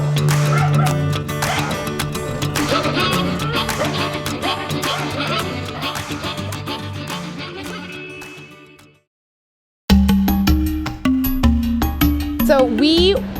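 Dogs at an animal rescue bark, yip and whimper in repeated bursts, mixed with voices and other background sound. The sound cuts to a brief silence near the end before the barking resumes.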